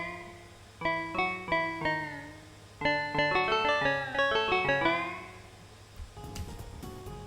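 Synthesized African-style bars layer from a waltz-style electronic track: a soft mallet-like synth playing a short melodic phrase of plucked, harmonically rich notes in two bursts, ending with a brief noisy tail, no voices.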